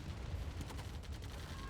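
Sustained dense gunfire from minigunners in a real-time strategy match, a continuous low rumbling barrage with crackling bursts, loud and steady throughout.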